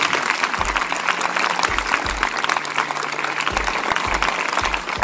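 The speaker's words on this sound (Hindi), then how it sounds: "तो एक बार पुलिस विभाग के लिए जोरदार तालियां बजाइए।" Sustained applause from an audience at a local martyrs' day commemoration in Lohari Ragho, Hisar, clapping for the police department; dense, steady clapping fills the whole stretch with low murmurs underneath.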